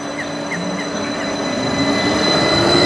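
A train rumbles past close by at Cononley station, barriers down, with a steady roar, metallic wheel squeal and faint rhythmic clatter, growing slightly louder throughout.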